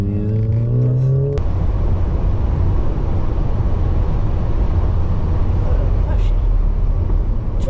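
A Subaru accelerating: a steady rising engine and tyre roar heard from inside the moving car, loud and continuous after a brief initial rev.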